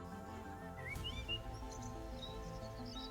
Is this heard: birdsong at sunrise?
yes